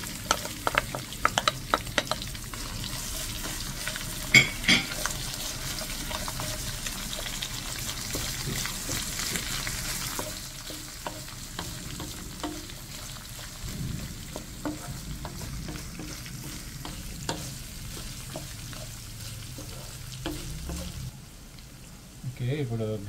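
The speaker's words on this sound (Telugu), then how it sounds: "జింజర్ గార్లిక్ వేస్తున్నాం ఇప్పుడు" Ginger and garlic fry in a pan as the base for an Andhra fish curry, giving a steady sizzle with scattered stirring clatters and pops, louder in the first half and fading later.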